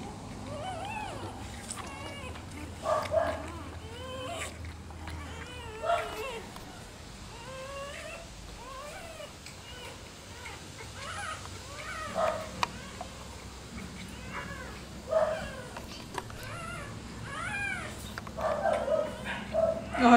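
Rottweiler puppies whimper and squeak in short, repeated bursts close by while nursing, with faint voices in the background.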